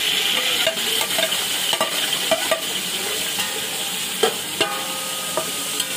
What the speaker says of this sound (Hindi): तो ऑयल हमारा गर्म होना शुरू हो गया तो हम इसमें प्याज ऐड करेंगे